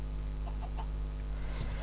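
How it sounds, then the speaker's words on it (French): Chickens in a video game clucking softly, a few short clucks early on over a steady electronic hum, with no talk. "Et il y a des poulets, on va pas y toucher pour l'instant."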